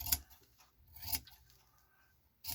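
Scissors cutting through felt along the line where blue meets black, a few short crisp snips spaced apart with quiet gaps between, close and fairly soft.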